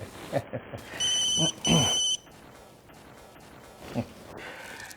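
A telephone rings in two short electronic bursts amid background noise and a few thumps, followed by quiet room sound.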